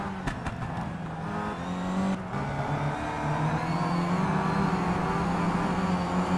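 Race car engines howl in the Simraceway game during a WTCC touring car race at Mid-Ohio Sports Car Course, several sharp clicks early on, then a rising, revving engine note that grows louder and steadier toward the end.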